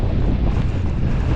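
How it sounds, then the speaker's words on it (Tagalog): Strong typhoon wind blasts straight into the microphone, a loud, continuous low-frequency buffeting roar with no pauses and no talking. "sobrang lakas ng hangin dito"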